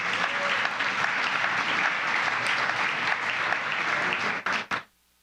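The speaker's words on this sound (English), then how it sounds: "Please give them a round of applause for making this happen." Steady audience applause at a live community crowdfunding event in Wheeling, honoring the sponsors, a dense continuous clapping that ends abruptly with a couple of final claps before silence.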